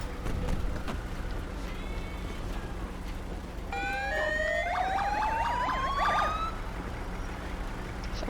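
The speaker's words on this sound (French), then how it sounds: "Ferme tes sirènes s'il te plaît" Police sirens from the video game GTA with the LSPDFR mod wail and sweep up and down in overlapping tones over a steady engine-like rumble, rising to their loudest midway through.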